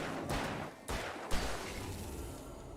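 Gunfire from the video game Alan Wake Remastered: two or three loud bursts in quick succession near the start, followed by a lower, steady noisy tail.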